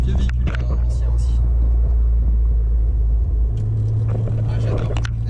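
A Renault Alpine GTA with a turbocharged V6 engine rumbles steadily from inside the moving car, a loud low drone throughout with a deeper tone settling in toward the end, while people talk over it.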